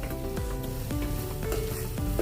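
Coriander powder and cumin sizzle in hot oil in a pan for a soybean and potato pulao, with a spoon scraping through in several rhythmic stirring strokes under a constant close hiss.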